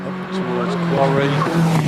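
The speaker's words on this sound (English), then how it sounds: "Little dab of the brakes, settled the car down and over the finish" Hillclimb race car at Harewood easing off with a light dab of the brakes and crossing the finish, its engine tone dipping then rising again, moderately close with faint tire noise and a commentator talking over it.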